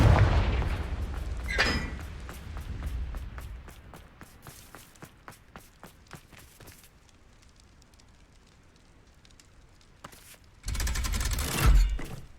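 Fire spell blasts and impacts in the Hogwarts Legacy video game, a dense crackling burst at the start followed by a run of sharp repeated cracks, then a quieter lull and a loud roaring blast near the end.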